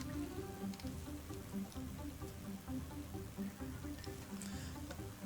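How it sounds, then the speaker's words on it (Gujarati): Steady unseasonal rain patters on surfaces in Ahmedabad, a soft continuous hiss with scattered drops, heard from a distance without any voices. "વાતાવરણમાં અચાનક પલટો આવતા કમોસમી વરસાદ ખાબક્યો છે અમદાવાદમાં"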